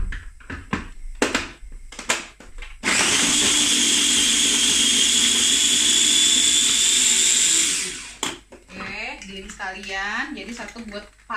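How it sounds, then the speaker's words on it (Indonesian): A kitchen blender grinds garlic in a loud, steady, high-pitched whir that lasts about five seconds and then winds down. Someone talks before and after it. "Jadi saya akan giling yang bawang putihnya dulu."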